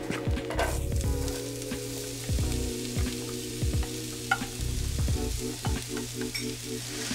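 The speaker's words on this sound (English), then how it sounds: "And then I'll add the onions and garlic." Onions and garlic hit hot coconut oil in a pan for cauliflower fried rice, a loud continuous sizzle broken by repeated scraping stirs and spatula knocks throughout.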